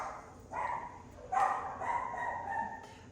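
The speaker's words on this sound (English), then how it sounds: "So, all the dogs." Dogs yip and whine in drawn-out, tonal cries that overlap in a few rising bursts, moderately loud against a quiet background.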